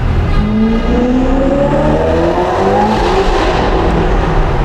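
A loud, close Ferrari 488 Pista Novitec engine drones with a deep resonant hum, its tone shifting gradually as it revs, filling the whole stretch without any talking.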